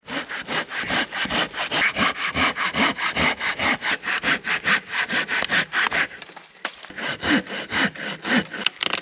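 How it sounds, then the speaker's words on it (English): A hand saw cross-cuts a thick log outdoors in the cold, with loud, close, rhythmic back-and-forth rasping strokes in a steady beat, a brief pause partway through, then more strokes. "Give her a little cross cut."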